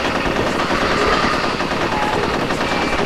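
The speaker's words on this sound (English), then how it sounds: "I think it's better not to use that machine gun." Sustained machine gun turret fire in Conker's Bad Fur Day, a dense, loud, unbroken rattle of rapid shots filling the whole stretch with no voices over it.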